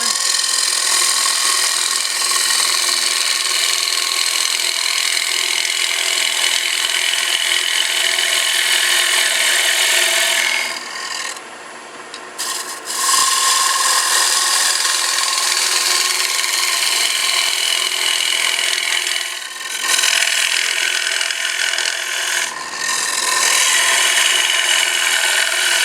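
Wood hollowed on a lathe with a gouge, a loud continuous scraping hiss of the cutting tool against spinning wood, broken by two brief pauses where the tool lifts off.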